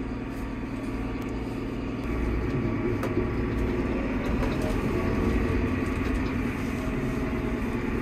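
A Fendt 300 series tractor with a front end loader idles nearby, a steady low engine rumble that swells slightly after a couple of seconds and holds for the rest of the clip, with no talking.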